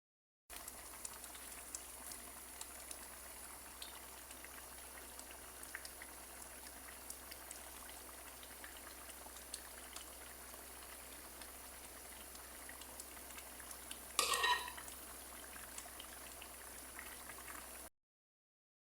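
Falsa syrup simmering in a pan gives a faint, steady bubbling and popping, with one brief louder stir or clatter near the end.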